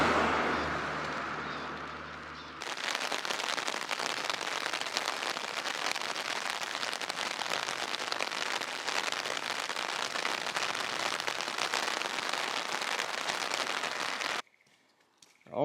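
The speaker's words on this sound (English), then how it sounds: "Rain's starting to pick up a little more." Steady rain pours down on a hiker trudging uphill in Japan, a dense, even hiss that starts abruptly and holds close and loud for about twelve seconds before cutting off.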